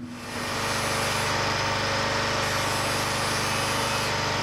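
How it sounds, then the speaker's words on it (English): A flat disc grinder cleaning up a bevel for welding on an anchor winch fitting spins up within the first half second, then holds a loud, continuous high whine with a steady rough hiss. "I'm just going to run a flat disc around this bevel just to clean it up again for the"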